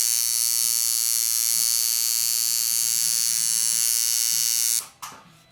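A tattoo liner machine runs at about 55 percent duty and 115 cycles per second, making a steady, close, high-pitched electric buzz. It cuts off sharply near the end, leaving a brief clatter.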